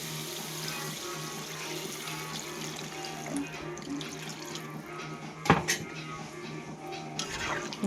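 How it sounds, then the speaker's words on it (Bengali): Water poured into a pan of fried masala for fish curry, a running, splashing pour with clinks of metal against the pan and a louder clatter partway through, close and moderately loud. "তো আমি এখানে দিয়ে দেব জল।"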